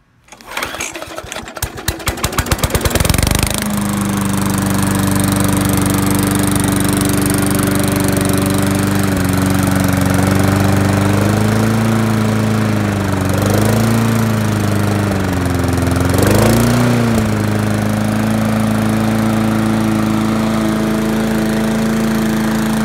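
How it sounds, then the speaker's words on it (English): A Murray lawn mower engine sputters to life, then runs loud and steady at close range. Its pitch dips and rises briefly a couple of times, with no talking. "run a lawnmower"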